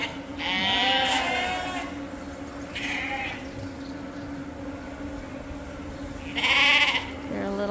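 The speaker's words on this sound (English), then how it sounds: "So these lambs are all 3 to 4 months old." Lambs about three to four months old bleat in a pen, several loud calls coming in short bursts with quieter stretches between, over a steady low background hum.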